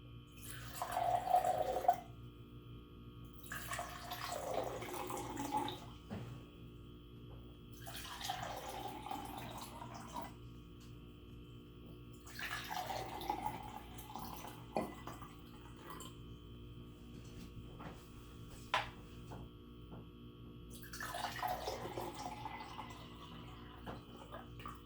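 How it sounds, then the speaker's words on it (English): Water is poured into a row of cups to tune a homemade water xylophone, five separate pours spaced a few seconds apart, each a rising gurgle that fills the cup, close and quiet, with no talk. "First step is pour different amounts of water into each cup."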